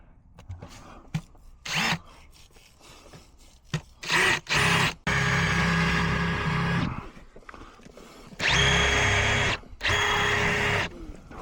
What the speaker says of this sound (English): now I've got to try and get in here and pre-drill this post